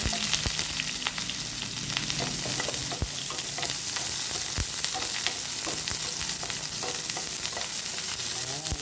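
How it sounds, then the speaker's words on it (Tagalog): Garlic, onion and spices sautéing in a pan make a steady, bright sizzle with sharp spitting pops and occasional scrapes of a stirring utensil, close and unbroken. "igisa ko na yung mga lamas"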